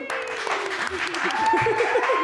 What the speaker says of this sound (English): Damn, loud ass claps.